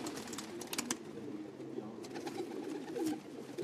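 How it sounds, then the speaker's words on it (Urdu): Teddy pigeons coo softly in a rooftop loft, with steady low cooing, a few brighter clicks, and background noise throughout. "پانچ نمبر ٹیڈی کبوتر"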